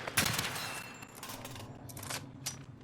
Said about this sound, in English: there's a bunch of gunfire completely drowns you out